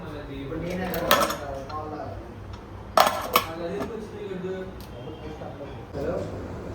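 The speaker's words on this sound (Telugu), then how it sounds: "రైస్ గిన్నె కడగాలి." A rice pot is washed with scattered metallic clanks and scrapes of utensils, two louder knocks standing out, while a person talks nearby.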